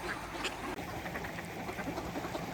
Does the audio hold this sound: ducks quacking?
yes